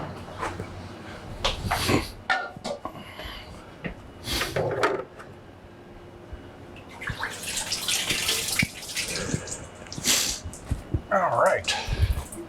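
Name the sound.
rinsing a coated screen with running water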